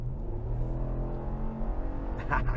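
A 2021 RAM 1500 Limited pickup truck engine rumbles steadily at a low pitch, revving slightly, with a brief hissy burst near the end; no voices.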